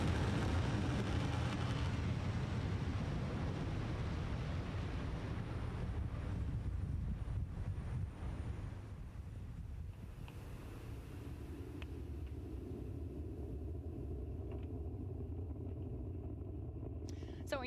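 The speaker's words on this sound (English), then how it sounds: "Falcon 9 has successfully lifted off from Launch Complex 39A at Kennedy Space Center" SpaceX Falcon 9 Block 5 rocket lifting off from Launch Complex 39A at Kennedy Space Center, a broad, continuous low roar that gradually thins and fades as the vehicle climbs away.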